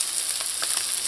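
Garlic sautes in a hot pan as a steady, close sizzle with bright crackling spatters and a few louder pops, no voices over the frying.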